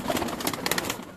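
High-flying pigeons coo in a steady, close murmur, soft rolling calls overlapping against a busy background with no talking.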